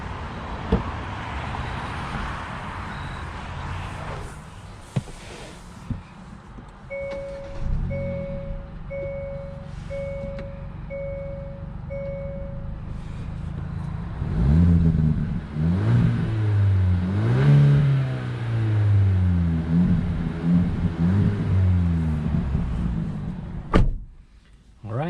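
A 2022 Hyundai Elantra N Line starts up, then a run of warning chimes sounds, followed by the engine rising and falling through repeated accelerations as it pulls away, loud and close from inside the cabin.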